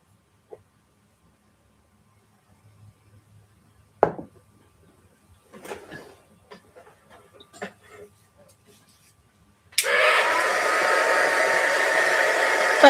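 A heat tool blows over a thin coat of craft medium in a journaling session, switching on partway with a steady, loud broadband whoosh after some quiet tapping and handling sounds.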